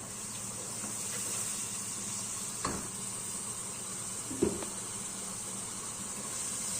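Onions with a little salt frying in a pan for an egg and drumstick curry, giving a faint, steady sizzle with two soft clicks of stirring.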